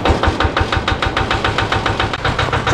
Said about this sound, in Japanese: よし、ちょっとエンジンかけて暖気しとこう。